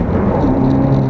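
A Renault Megane RS300 Trophy hot hatch accelerates, its engine a close, loud, steady low drone with a rising tone over a brief moment.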